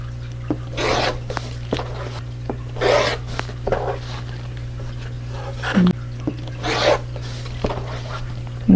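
Quilting fabric is cut on a mat, with about half a dozen short rasping strokes at intervals of a second or two, close but soft, over a steady low electrical hum.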